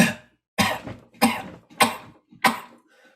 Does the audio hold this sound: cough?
yes